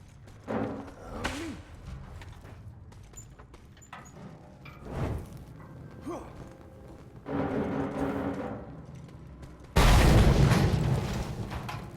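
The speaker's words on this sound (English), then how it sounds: "explosions in an enclosed corridor are going to go further" Explosions going off in an enclosed corridor in the Mad Max game: several muffled booms spread across the stretch, ending in a loud, sustained roaring blast near the close, with no talk.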